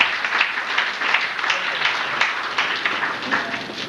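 A crowd at a chowk inauguration ceremony in Khar, Mumbai applauds a welcomed guest with steady, dense clapping that holds evenly throughout, fairly close and continuous.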